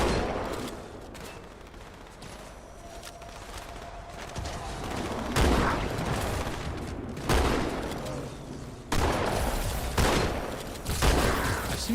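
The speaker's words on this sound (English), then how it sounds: "definitely bring the shotgun out" Shotgun fire in Halo 2 gameplay: several heavy, booming blasts arrive a couple of seconds apart over constant game noise, with no one talking.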